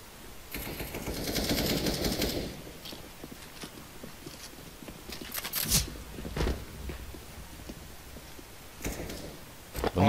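Counter-Strike: Global Offensive match on the double door area, with bursts of rapid gunfire and sharp shots scattered through, plus footstep-like clicks and game effects; no talk.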